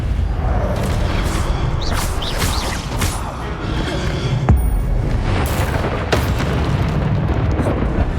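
Confringo fire-spell blasts in the Hogwarts Legacy game go off as repeated loud booms and crackling bursts over a dense, busy background of combat noise.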